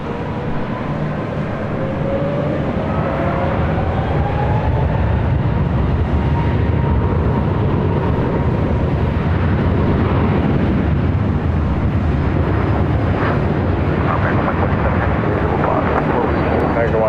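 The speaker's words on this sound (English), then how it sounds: "Delta A321 Neo up next for an arrival on 24 left." Delta Airbus A321neo arriving on runway 24 left at LAX, a steady broad roar of jet engines rising and sustained throughout, with faint voices over it.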